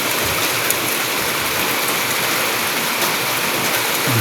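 Heavy morning rain falls in a steady, loud, rushing roar like running water, continuous from start to finish without any voices.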